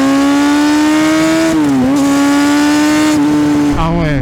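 A 2017 Kawasaki Ninja ZX6R 636 motorcycle engine screaming at high revs, loud and close, pitch climbing steadily with brief drops at gear changes before pulling hard again.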